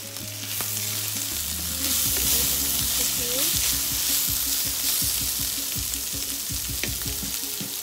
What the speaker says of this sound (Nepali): यसलाई पनि राम्रोसँग मिक्स गर्दै पकाउनु होला ढक्कन लगाएर पकाउँदैछु